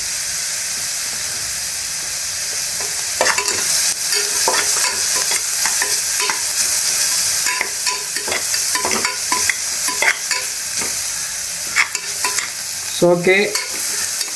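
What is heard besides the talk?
sautéing in oil in a pan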